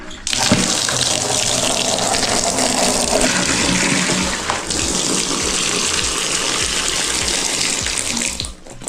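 Water gushes steadily and loudly into a container, filling it to wash a riding jacket at home, then cuts off near the end.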